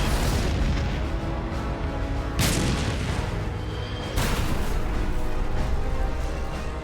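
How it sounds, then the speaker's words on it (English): A German A7V tank's main gun fires in a World War I battle scene from 1916. Two heavy booms punch through a dense, continuous roar of battle noise. "The lead German tank opens fire with its main gun."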